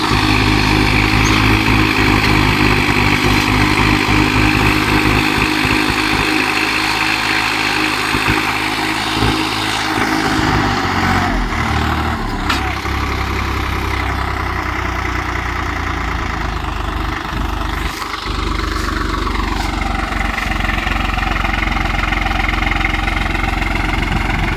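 A tractor engine runs loud and close with a steady droning rumble for the whole stretch, its pitch shifting slightly now and then, with no voices.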